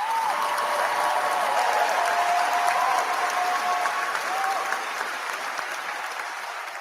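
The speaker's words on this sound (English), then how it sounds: "Sucks hearing that damn applause, doesn't it?" Dense applause from a crowd rolls on steadily without a break, loud and continuous, with a faint tonal whistle-like sound running through it.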